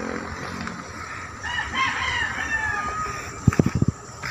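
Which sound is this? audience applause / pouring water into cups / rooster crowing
rooster crowing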